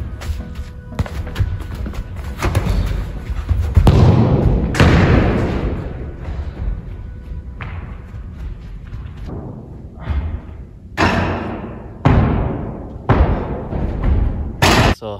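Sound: soccer ball being kicked

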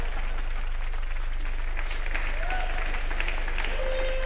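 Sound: studio audience applause on game show

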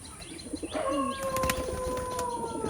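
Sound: pigeon

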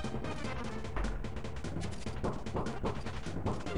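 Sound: cannons firing in the video game Kirby Super Star

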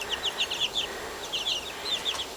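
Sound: chickens and roosters clucking

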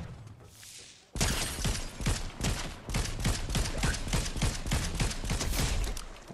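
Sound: gunfire in the Fortnite video game

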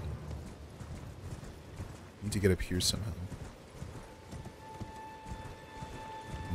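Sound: horse hooves galloping in Elden Ring video game

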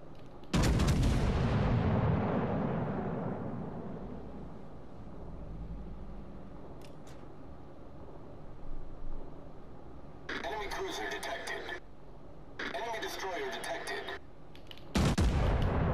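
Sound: warship gunfire in the video game World of Warships Legends

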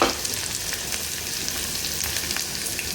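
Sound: onion frying in hot oil

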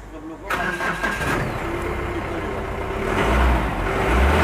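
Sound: Mahindra Bolero Pickup engine starting

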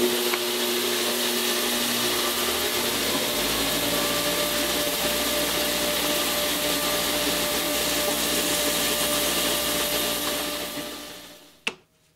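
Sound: belt sander smoothing wooden tail pieces

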